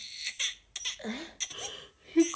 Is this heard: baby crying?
yes